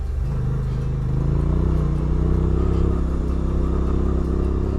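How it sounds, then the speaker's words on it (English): A Suzuki V-Strom 800DE parallel-twin with a Yoshimura exhaust rumbles deep and loud close by, holding a steady throaty drone with a slight rise in pitch partway through. "With the Yoshi, the exhaust now sounds obscenely good"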